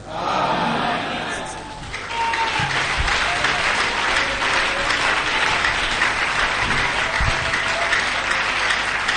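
A church congregation applauds in sustained, loud clapping that dips briefly early on and then swells again, with voices calling out faintly beneath the applause.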